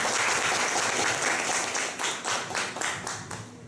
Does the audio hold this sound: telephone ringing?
no